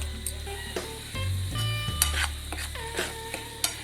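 Spices and bay leaves for paneer curry sizzle in hot oil while a spoon stirs and scrapes the pan, giving close, irregular clinks and scraping over a steady frying hiss.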